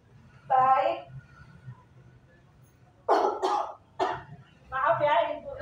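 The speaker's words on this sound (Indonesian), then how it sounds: "Maaf ya, Ibu lagi batuk" A woman teacher in a classroom lesson coughs in several rough bursts, one early, then a cluster of two or three harsh coughs followed by a throat-clearing cough, close and fairly loud in a quiet room.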